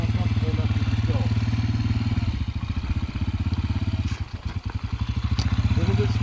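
A dirt bike engine idles and putters close by with a rapid, thumping exhaust pulse that loosens and changes pace as the clutch is worked, with a brief clattering dip before it steadies again.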